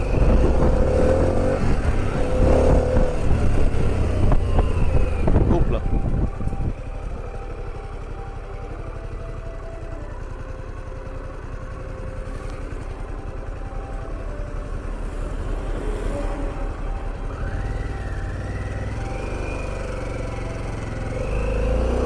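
A Harley-Davidson Pan America motorcycle engine runs steadily while riding, a loud low rumble with a stronger surge over the first seconds that then settles into a continuous, slightly quieter drone with wind noise.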